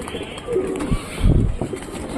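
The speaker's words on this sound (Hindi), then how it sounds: "कोकी यार नोटिस करो इस कबूतर को यार एक बार" A pigeon gives a couple of soft, low coos nearby against steady background noise.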